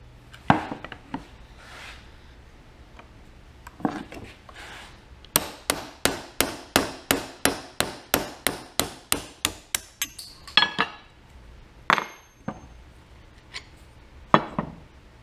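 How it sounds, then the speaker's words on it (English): A pin is hammered out of a pulley shaft on a Cub Cadet dozer build: about fifteen sharp, evenly spaced metal hammer blows in a steady rhythm, close and loud, with a few scattered knocks before and after. "I need to drive this pin out to get the pulley on."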